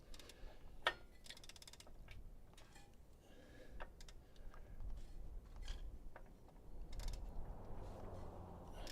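A ratchet wrench works a bolt on a car engine under the hood, likely on a crew-cab Charger, giving a series of small clicking and creaking cranks with scattered metallic clatter, fairly faint and close, with no talking.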